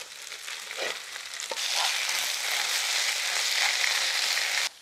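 Goat boti, pieces of mutton, frying in a pan with a loud, steady sizzle that swells as the pieces are stirred, then cuts off abruptly; no talking.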